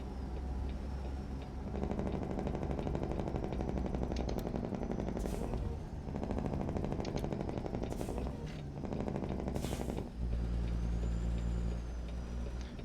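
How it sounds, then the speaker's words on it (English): Air brakes on a Project 3XX short logger truck in American Truck Simulator, using Z-Mod's air brake sounds: several sharp hissing bursts cut over a steady, loud diesel engine drone. "Also running Z-Mod's air brake sounds, which is a nice change"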